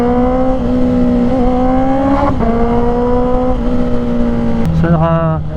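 A Harley-Davidson motorcycle engine drones with a steady, loud harmonic hum alongside another rider's bike, with wind rush behind it and a gear change and rising rev near the end.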